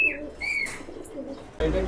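Lal Patti pigeons of the Pankhi bloodline, Dhaka high flyers, coo softly in a loft with a brief chirp and rustle, with a louder burst of noise near the end.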